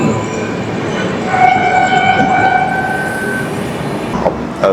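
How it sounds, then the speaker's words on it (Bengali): A train at platform 2 of Balasore railway station, a steady rail rumble running throughout with a sustained tonal horn-like whine rising over it midway, then a brief clank near the end. "এই মুহূর্তে আমি আছি বালেশ্বর রেলওয়ে স্টেশনের 2 নম্বর প্ল্যাটফর্মে।"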